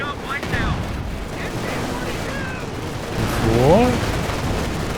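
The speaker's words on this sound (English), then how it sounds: "There goes the machine gun" Company of Heroes 2 battle rumbles with dense distant gunfire and machine-gun bursts under a steady roar, a swell of louder firing near the end, with a commentator speaking over it.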